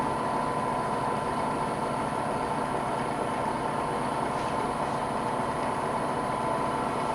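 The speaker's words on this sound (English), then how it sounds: "Crank the lathe speed up." A wood lathe spins at speed while a workpiece is sanded, giving a steady, dense whirring hum with a constant high motor whine that holds evenly throughout, with no talking.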